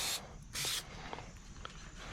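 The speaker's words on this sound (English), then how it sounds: "I'm going to spray every bit of this area." Two short bursts of brake cleaner aerosol spray hiss, loud and close, separated by a brief pause, followed by faint handling noises.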